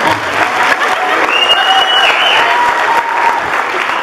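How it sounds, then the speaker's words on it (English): Applause from a crowd at a Christmas ball as a lady steps forward in a best-dressed contest, steady dense clapping throughout with a few voices and a faint whistle mixed in. "give her an applause."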